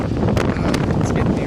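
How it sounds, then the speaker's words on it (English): Strong gusting wind roars and rumbles against the microphone during snowfall, loud and continuous, with no voice standing out. "it's crazy windy and snowing pretty good"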